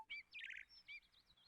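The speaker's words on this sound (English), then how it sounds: "Home Hub, play birdsong ambience." A smart home speaker plays birdsong ambience: a brief run of bright, high chirps and trills from a small bird, soft and quiet.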